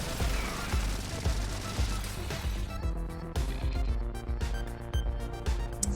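Rapid bursts of shoulder-cannon gunfire from the video game Factorio, a dense, loud clatter of repeated shots running continuously over game background sounds, with no voices.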